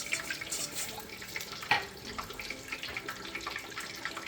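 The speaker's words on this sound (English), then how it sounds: "We'll just add a cup of water." A cup of water pours into a pan of frying fish with a steady splashing trickle, then a short louder splash partway through, over a faint hiss.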